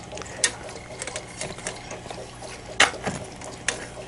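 A new, louder aquarium air pump runs with a steady mechanical buzz, close by, with scattered clicks and ticks over the drone.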